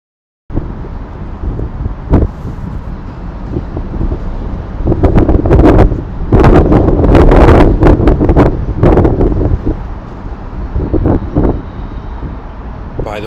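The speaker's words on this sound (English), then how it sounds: "it's windy where I am giving this talk on my balcony" Wind blowing on a balcony, heavy gusty buffeting and rumble right at the microphone, swelling to loud bursts midway and continuing in strong waves.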